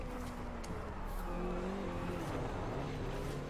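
Honda CRX in Forza Horizon 5 doing a burnout, its engine droning steadily at high revs near the limiter for the whole stretch, with a faint tire squeal mixed into the loud, continuous roar.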